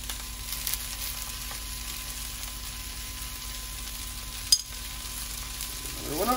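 Garlic frying in a pan sizzles softly and steadily at close range for a breakfast hash, with one brief sharp clink partway through and a little extra crackle toward the end.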